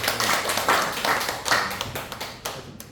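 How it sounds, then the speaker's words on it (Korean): A small group at a business meeting gives brief applause, a few uneven claps that thin out into scattered single taps with no voices. "박수 한번 주죠."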